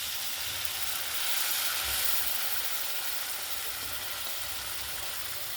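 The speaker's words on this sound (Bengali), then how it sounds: "জল দিয়ে দিচ্ছি।" Water poured into sizzling spice paste with tomato, salt and sugar for an egg and potol curry: a dense, steady hiss of steam and bubbling, swelling briefly, close and continuous with no voices.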